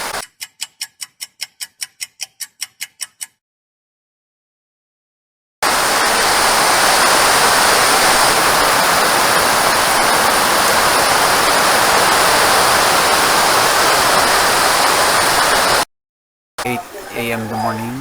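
Heavy rain from Tropical Storm Basyang in the Philippines pours down as a loud, dense, steady hiss for about ten seconds, coming after a run of sharp ticking clicks and followed by a brief muffled voice.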